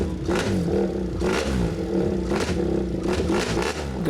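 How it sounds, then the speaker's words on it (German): A motorcycle fitted with an Akrapovic titanium exhaust revs repeatedly at a festival, four loud throttle blips rising and falling over a rumbling idle, close by. "Und was wir aber noch reingemacht haben, ist die Akrapovic-Titan-Auspuffanlage, um dem natürlich auch einen richtig schönen Sound zu verleihen, dem Motorrad."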